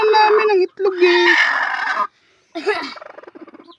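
A laying hen on a small organic egg farm, clucking and squawking loudly up close in several bursts, the last breaking into quick rapid clucks.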